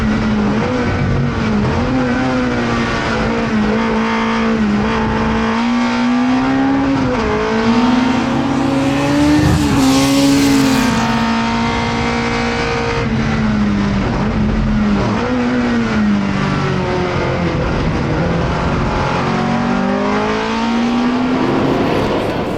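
A classic race car at speed on a circuit in the Algarve, Portugal, its engine howling steadily and loud, with pitch sweeping up and down through gear changes and a brief burst of tyre noise midway.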